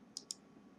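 Two quick, crisp clicks of a computer mouse, close and fairly faint, about a tenth of a second apart over a quiet room hum.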